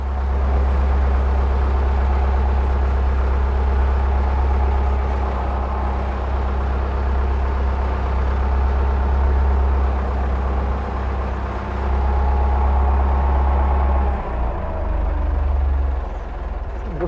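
Ursus tractor engine idling on a farm before hitching a four-furrow reversible plough, a steady, close low rumble that holds throughout and dips briefly near the end.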